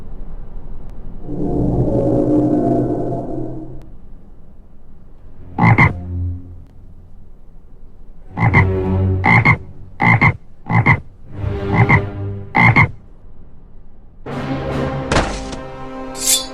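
Deep, throaty frog croaks, first one long drawn-out call, then a series of short separate croaks in an uneven rhythm, loud and close.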